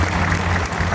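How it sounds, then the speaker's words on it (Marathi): An audience claps in a dense, steady burst of applause, loud and close, with no voices over it. "आपण टाळ्या वाजवून त्यांचं अभिनंदन."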